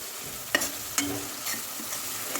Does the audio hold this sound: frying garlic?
yes